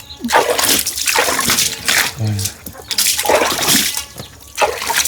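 Water splashing and sloshing with clinks of bowls, spoons and plates being washed under running water, steady and close, with bursts of louder splashing throughout.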